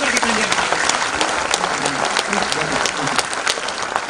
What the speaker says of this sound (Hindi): जोर से तालियां बजाइए, लगातार खड़े होकर के तालियां बजाइए